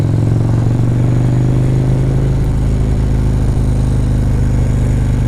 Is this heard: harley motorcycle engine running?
yes